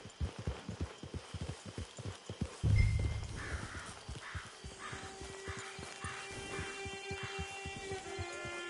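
A horse's hooves clip-clop in a steady walking rhythm in the video game Red Dead Redemption 2, close and continuous, with a brief thud, light rain and birdsong in the background.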